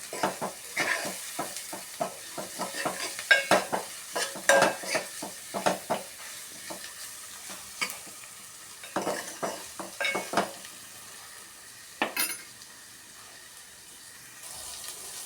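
Meal maker curry is stirred and fried in a pan, with bursts of spatula scraping and clinking against the metal over a low, steady sizzle, pausing briefly between rounds of close stirring.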